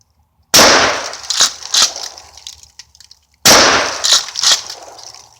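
Two loud shotgun blasts of birdshot fired at a cinder block, about three seconds apart, each a sharp crack followed by rattling debris and brief echoes.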